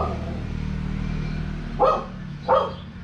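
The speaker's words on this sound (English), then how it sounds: "He barks at everything." A dog barks twice, two sharp nearby barks about a second apart, over a steady low background hum.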